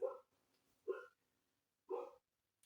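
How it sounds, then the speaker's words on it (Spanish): Three short barks from a neighbour's dog some distance away, evenly spaced with quiet gaps between them. "Mientras ladra el perro del vecino"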